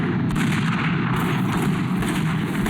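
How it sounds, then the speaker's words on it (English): An automatic gun fires a continuous, loud, roaring stream of rapid rounds that runs without a break as a dense, booming wall of sound. "The gun's firing at a rate of about 2 to 250 rounds a minute."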